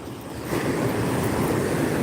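Ocean surf rushing and washing in, a steady broadband roar that swells up after a brief quieter start and then holds at a constant level.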